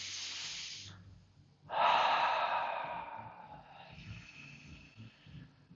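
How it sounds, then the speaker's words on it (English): Deep breathing during a yoga class: a soft, drawn-out exhale, a pause, then a fuller, louder breath that fades slowly, close and quiet with no talking. "Inhale deeply."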